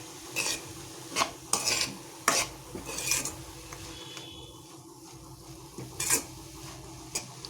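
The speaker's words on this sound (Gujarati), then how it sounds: "બીટનો કલર બદલાય ત્યાં સુધી આપણે એને સારી રીતે મિક્સ કરી લઈએ" Grated beetroot being stirred in ghee in a pan for beetroot laddu: repeated scraping strokes of a spoon against the pan in irregular bursts over a soft continuous sizzle, close and without any talking.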